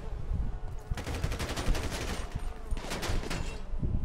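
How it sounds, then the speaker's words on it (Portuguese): Rapid automatic gunfire in the video game GTA 5, rounds hitting a vehicle in dense sustained bursts, loud and close over a steady rumbling background. "Como é que o cara tá metendo bala em mim?"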